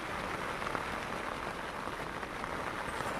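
Steady rain falls at night on a rooftop camping spot, a dense even hiss of drops hitting surfaces, moderately faint and continuous without any voices.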